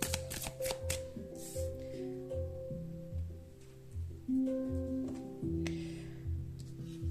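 Tarot cards are shuffled and drawn by hand in a quick series of crisp riffling flicks and soft slaps, close up and steady, with no talking.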